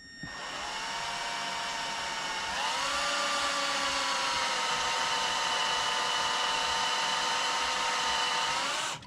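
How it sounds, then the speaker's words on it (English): A power drill bores into a seized exhaust stud on an engine. It gives a steady, high-pitched whine that spins up, shifts pitch slightly partway through, then holds constant until it stops. "Then just start to drill."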